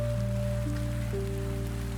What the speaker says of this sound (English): The lamp holds its light, the rain holds its quiet rhythm